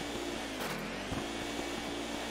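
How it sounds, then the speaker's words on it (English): Luigi's vacuum in the Luigi's Mansion video game sucks steadily at something on a wall, a continuous broadband whooshing drone with faint low game sounds beneath. "Starting to vacuum up the thing on the wall"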